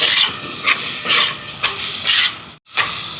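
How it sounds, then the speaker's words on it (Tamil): Onions and tomatoes sautéing in a pan for an anchovy curry, a steady frying sizzle and hiss with stirring scrapes rising and falling in waves and a brief drop to quiet near the end, no talk. "இப்போ பாருங்கள் வெங்காயம் எல்லாம் நல்லா வதங்குது தக்காளி பழம் சேர்ப்போம்"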